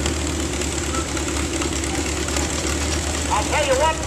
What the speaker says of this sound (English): That's our Renfro's old tractor.